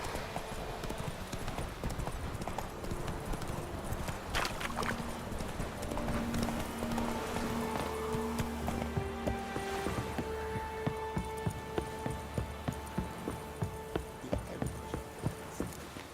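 In The Witcher 3 video game, a horse gallops with quick rhythmic clip-clop hoofbeats that grow more distinct toward the end, set over quiet game ambience and music.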